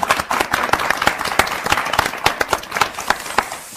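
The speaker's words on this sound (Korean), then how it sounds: "박수 칠게요" A studio audience applauds on a Christian talk show, brisk rhythmic clapping with sharp distinct hand claps, close and fairly loud.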